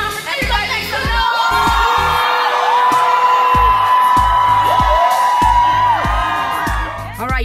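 An audience at a youth conference claps, cheers and whoops loudly and continuously, with children shouting over a thumping bass beat.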